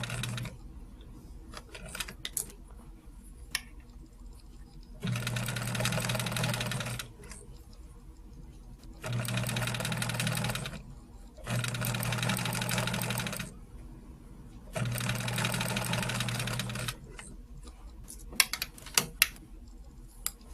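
A sewing machine stitches a quilt in four bursts of steady, fairly loud whirring, each lasting about two seconds, separated by quiet pauses with faint handling clicks.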